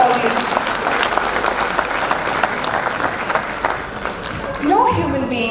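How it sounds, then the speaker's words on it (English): Applause from a crowd at a school annual day event honouring student achievements, a broad, continuous clapping that holds steady before a voice begins speaking over it near the end. "Please give a big round of applause for all the achievements."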